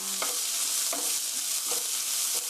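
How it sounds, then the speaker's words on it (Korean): Onions sauté in a pan until golden for a tomato sauce rigatoni, with a dense, loud hiss of sizzling and a few soft scraping stirs at regular intervals, close up and without voices. "양파가 노릇노릇하게 볶아질 때까지"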